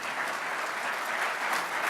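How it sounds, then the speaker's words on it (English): Continuous, even applause from a chamber day audience, a dense wash of clapping with no pause. "Let's give them a round of applause"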